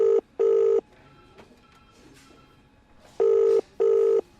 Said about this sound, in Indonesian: Karena bingung, aku meneleponnya balik.